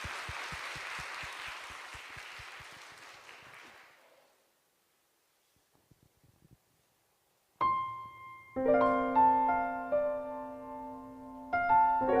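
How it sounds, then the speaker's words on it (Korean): Audience applause fills a church during a worship service, a dense burst of clapping that lasts about four seconds and then fades to near silence before instrumental music begins. "박수 주시면 두 번째 노래 시작하도록 하겠습니다."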